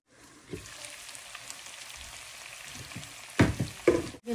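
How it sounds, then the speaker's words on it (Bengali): Chicken frying in a pan at home gives a steady, faint sizzle throughout, with a few louder clatters of stirring near the end. "চিকেনটা এখনো সিদ্ধ হয়নি, আরো 10 মিনিট আমি রান্না করবো।"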